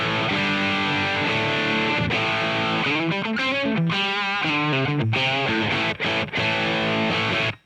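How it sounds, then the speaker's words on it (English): Electric guitar through the Amplitube 5 amp simulator with a Marshall-style distorted tone, run through a Universal Audio Apollo, playing sustained crunchy chords and a bending lead phrase with brief stops near the end, loud and alone. "Which is actually quite a convincing Marshall type of tone."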